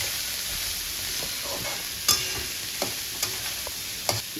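Capsicum, cabbage, carrot and peas sautéed and stirred in a hot pan, with a steady close sizzle broken by several sharp scrapes and clinks of a spoon against the pan.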